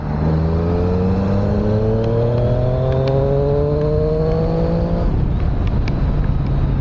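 A 2020 Triumph Street Triple R 765 motorcycle ridden hard, its engine note sweeping upward through the gears in loud, steady harmonics, then dropping and roughening abruptly as the bike brakes, with no talk.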